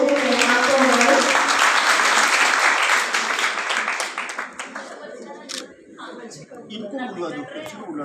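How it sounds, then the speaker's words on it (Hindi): A crowd at a National Girl Child Day school campaign launch in India applauds loudly, dense clapping that gradually thins and fades into scattered claps and murmuring. "तालियां एक ही बार बजी,"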